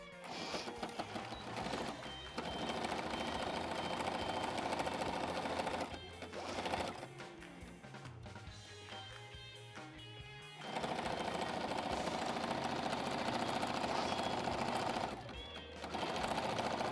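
A sewing machine stitching fabric runs in long steady buzzing stretches, close and fairly loud, with brief pauses between seams and no talking over it.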